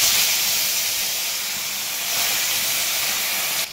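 Hot oil in a kadai hisses loudly and continuously as bata fish cook in mustard, a dense, steady sizzle close up that barely changes before dropping off at the very end.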